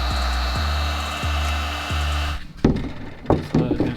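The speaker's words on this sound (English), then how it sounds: "You just put this heat shrink thing on there and heat up the heat gun" A heat gun blows a steady, loud whooshing roar with a faint tonal whine while heating heat shrink solder connectors during a Subaru WRX wing install. The airflow dips briefly every half second or so, then shuts off, followed by a few sharp knocks and handling clatter.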